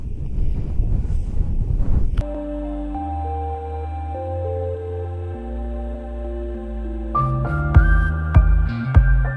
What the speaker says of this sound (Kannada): ತುಂಬ ಗಾಳಿ